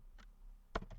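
Several crisp keystrokes on a computer keyboard while code is entered: a single tap, a pause, then a quick burst of three or four clicks, close and fairly loud.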